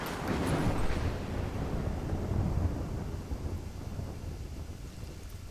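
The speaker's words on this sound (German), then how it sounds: "Warte auf den Donner." A low rolling rumble of thunder opens loud and slowly fades into a windy stormy hush during a sniper mission at a pier in Battlefield Bad Company 2, with no voices over it.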